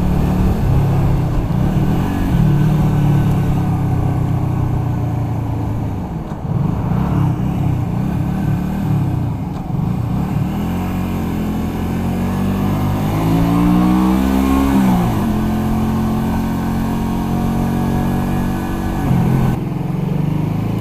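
Honda Shadow 125 motorcycle on a Sunday ride, its engine droning steadily close by with rising and falling pitch as it accelerates and shifts, wind noise underneath and no talk.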